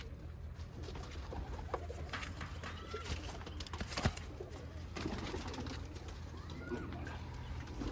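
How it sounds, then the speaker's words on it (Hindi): Pigeons kept by a fancier coo softly amid a busy, noisy yard, their low calls blending with scattered rustles and a steady background hum, with faint voices now and then. "ये बड़े कबूतर है जो इनके बच्चे बुच्चे लेते हैं जिनके"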